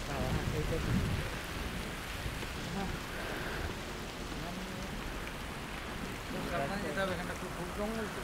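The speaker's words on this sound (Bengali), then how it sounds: "কি বৃষ্টি হচ্ছে।" Heavy rain pours down steadily outdoors near a large, wooded abandoned town, a dense close hiss with occasional low rumbles, while people talk quietly beneath it.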